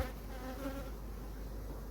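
A steady, dense hum of many honey bees buzzing at an open beehive fills the clip, close and continuous, with no voices.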